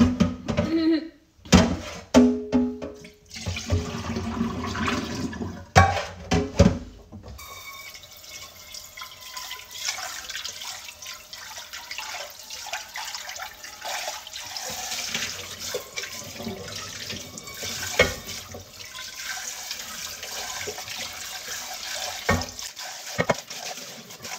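Dishes are washed at a sink after a meal: sharp clatters of plates come first, then tap water runs steadily with splashing and dripping, close and fairly loud, with some speech mixed in.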